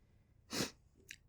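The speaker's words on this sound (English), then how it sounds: "I do know I need to sneeze, though" One loud, close sneeze bursts out after a short quiet intake of breath, followed by a faint sniff.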